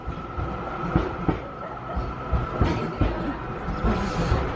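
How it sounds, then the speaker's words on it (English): A tram rolls along its rails, steady rumble and rattle broken by repeated clicks and knocks as the wheels cross track joints, loud and close from onboard, with no speech. "Go on, jump on the tram."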